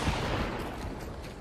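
Gunfire in the video game Hunt: Showdown, a dense, noisy burst that rolls on without a clear break across the moment, loud and close with no talk over it.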